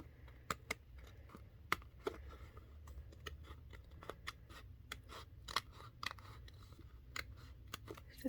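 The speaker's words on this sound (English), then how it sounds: "we're just going to cut right down the center, because we have to, because we've got to repunch these pages." Scissors snip through planner pages down the center in a steady series of sharp cuts, close and distinct over a quiet background.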